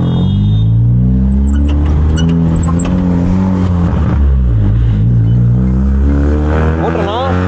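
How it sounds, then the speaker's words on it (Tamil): A car engine revs hard and loud right up close as the clutch is dumped for a wheel spin, a sustained roaring drone that rises in pitch toward the end, with voices underneath. "எடு கிளட்சை விட்டு வீல் ஸ்பின் பண்ணிப்போ."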